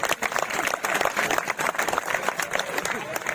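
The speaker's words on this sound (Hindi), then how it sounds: "तालियों में कंजूसाई मत करो साथियों।" A crowd at an outdoor protest gathering claps in uneven bursts, the applause rising and falling with voices mixed in, moderately close but not very loud.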